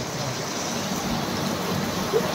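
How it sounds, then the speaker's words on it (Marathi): Heavy monsoon rain pours steadily during a vermicelli (shevai) machine dispatch in Solapur, a dense continuous hiss of water that holds even throughout, with no talk over it. "तुफान पावसात."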